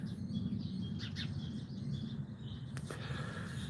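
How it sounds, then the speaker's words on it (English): Birds chirp in a tree outdoors, with scattered faint high calls over steady low background rumble and noise throughout. "These beautiful birds are like chirping into the tree."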